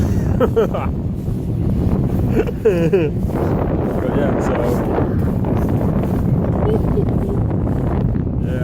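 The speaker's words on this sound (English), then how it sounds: "It could get a bit cold and windy, which it slightly is already" Cold wind blows steadily outdoors, buffeting the microphone with a continuous low rumble throughout, while people talk over it.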